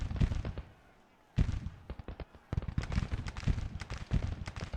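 Cannon artillery fire in a Civil War video game: rapid, irregular volleys of sharp booms and cracks, dense and overlapping, with a brief lull before the barrage resumes.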